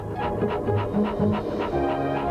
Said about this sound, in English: this is my robot dog, Goddard. Bark, bark, bark, bark.